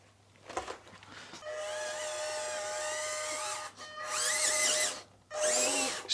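The small electric motor of an EazyRC Patriot RC crawler whines loudly in three bursts, its pitch rising and falling as it speeds up and slows, with short quiet gaps between runs.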